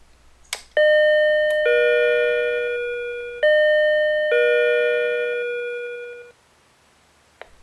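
After a couple of sharp clicks, a UTDC-DCR2500 wireless door entry alert sounds one of its chime tone options. It is a loud, clean electronic sequence of four ringing notes, each fading slowly into quiet.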